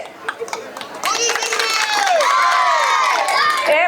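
A crowd of women at an Independence Day gathering cheers and shouts for the police, a loud sustained roar of high voices and whoops that swells after a second of scattered noise and carries on to the end.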